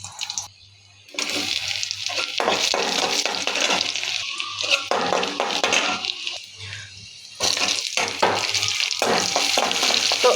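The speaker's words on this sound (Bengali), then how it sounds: "এইদিকে তো আমি অলরেডি তেল দিয়ে শুকনো মরিচ দিয়ে দিচ্ছি" Dried red chilies frying in hot oil in a pan, a loud crackling sizzle in bursts with brief pauses and stirring.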